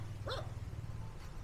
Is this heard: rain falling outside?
no